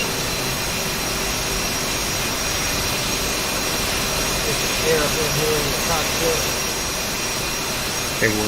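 An F/A-18 Hornet jet engine on landing approach over the Persian Gulf in DCS World, a steady loud whine and roar that holds throughout, with a few faint soft knocks near the end.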